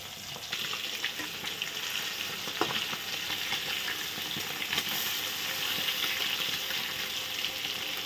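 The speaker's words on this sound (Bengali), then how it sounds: "এখন আস্তে আস্তে ভেজে নেওয়া হচ্ছে মাছটা একবার উল্টে দেওয়া হয়েছে আর একটু ভাজা হচ্ছে" Fish pieces fry slowly in oil, giving a steady, close, unbroken sizzle with a few faint pops and nothing else over it.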